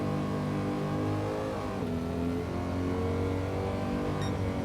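Engine of an old, boat-like car in Gran Turismo 7 during a licence test, a loud, steady drone with shifting pitch as it holds in gear and revs, continuous throughout.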